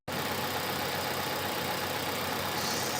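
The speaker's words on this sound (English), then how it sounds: "Great, nice, quiet engine." A 2012 Volkswagen Polo 1.4 GT Bluemotion petrol engine idling smoothly and steadily, heard close and alone, a constant even hum with no revving.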